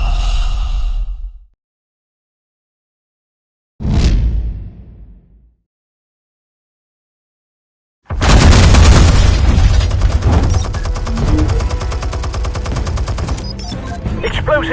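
Explosives go off in the Batman Telltale video game: a short blast, a pause, a second burst that trails off, then a long, loud run of rapid booming fire.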